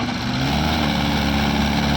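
Mahindra and Farmtrac tractor engines strain together while pulling out of deep mud, a loud, steady low diesel drone close by with no voices.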